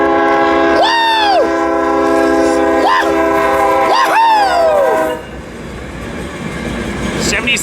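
A freight train hauling an all-trailer TOFC consist sounds three long, loud, chord-like horn blasts, the last held longest, as it rolls past, its steady rumble dropping off afterward while a voice shouts over it.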